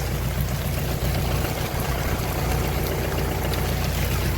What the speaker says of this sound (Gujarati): આટલો બધો વરસાદ થયો